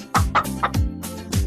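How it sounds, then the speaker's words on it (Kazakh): A hen clucks in a farmyard sequence: five short, sharp clucks in a quick uneven rhythm, each with a bright nasal attack, loud and close, with no voices. "тауық,"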